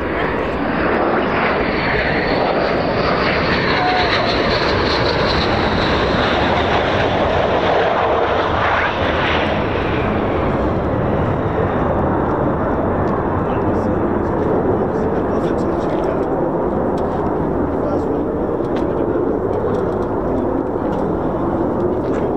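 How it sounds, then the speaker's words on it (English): A jet aircraft engine roars loud and continuous during a touch-and-go landing at an airfield, the whine shifting and fading slightly as the plane passes, with people talking nearby. "Did we just get a touch and go?"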